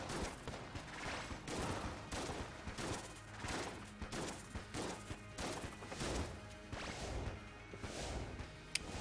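Rapid gunfire and impacts from the top-down shooter game Enter the Gungeon, a steady rhythmic stream of sharp shots and crashes at moderate volume, with no talking.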